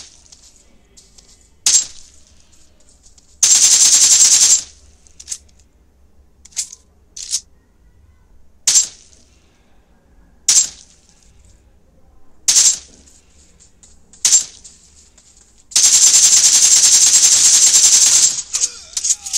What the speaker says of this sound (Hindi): चलिए एक बार आपको गेमिंग का साउंड सुना दूं, जिसको सुन के आप एक अंदाजा लगा सकते हो गेमिंग के समय इसका कैसा परफॉर्मेंस रहने वाला है।